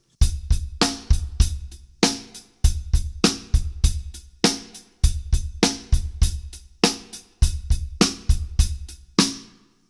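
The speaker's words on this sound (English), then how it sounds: "So if I play that funky music with rim shots," A drum kit plays a punchy, repeating funky groove with sharp, cracking snare rim shots and kick drum, each stroke ringing briefly before the next.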